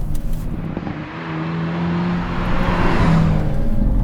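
A Hyundai Elantra N accelerates hard through its gears, the engine note loud and close inside the cabin, rising in pitch, dipping at a shift, then climbing again with steady road roar underneath.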